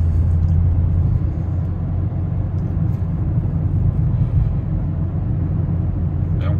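A 2019 Chevrolet Prisma 1.0 Joy with an 80-horsepower engine drives on an open road, giving a loud, steady low rumble of engine and road noise heard from inside the cabin throughout.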